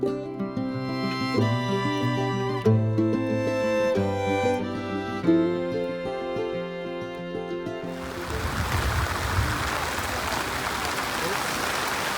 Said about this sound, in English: That last clip was an example of how hard it was raining some of the times when we were digging